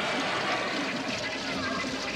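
A toilet with blue water additive in the bowl flushes in a steady rushing, gurgling wash of water, close and moderately loud, with a voice speaking over it.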